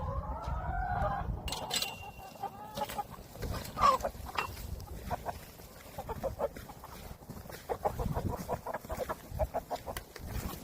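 Chickens cluck and call in a busy coop, with a rooster crowing briefly near the start and scattered pecking and rustling throughout.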